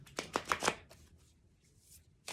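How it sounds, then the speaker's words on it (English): A deck of cards being shuffled: a quick run of crisp riffling bursts up close, then quieter card rustles. "So I will shuffle these cards"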